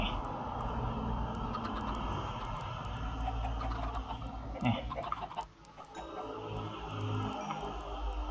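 Minecraft chickens clucking softly over a constant low ambient drone of the game world, with a brief louder disturbance midway and faint scattered clucks throughout.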